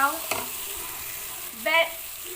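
Tomatoes frying in a pan as they soften for aloo masala, a steady close sizzle with two brief louder bursts of stirring or scraping, no voices.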